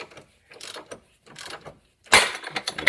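Ratcheting 19mm socket wrench working on a C5 Corvette rear control arm bolt, a few short bursts of clicking ratchet strokes separated by pauses, the last burst louder and denser.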